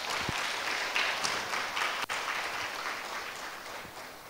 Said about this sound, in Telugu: clap for your self